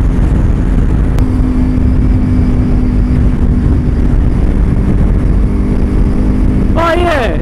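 Kawasaki Ninja 300 motorcycle engine, still fairly loud, droning steadily throughout at close range with a low rumbling hum, ending in a brief rising whine as it revs.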